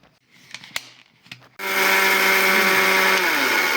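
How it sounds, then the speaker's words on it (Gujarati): An electric mixer grinder switches on and grinds white sesame seeds, a loud steady whirring hum after a few light clicks and taps. "મિક્સર ચાલુ કરીશું, બંધ કરીશું, એ રીતે દળવાના છે।"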